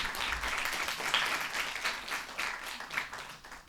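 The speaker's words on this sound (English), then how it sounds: "Let's clap for her." An audience at a school debate gives a short round of steady clapping, moderately distant and even throughout, with no talk over it.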